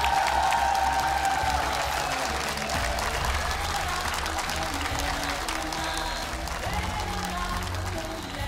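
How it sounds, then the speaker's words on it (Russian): An audience at a talent show in Kyrgyzstan applauds with steady, dense clapping mixed with crowd noise that holds for several seconds, with faint music or voices underneath. "Аплодисменты."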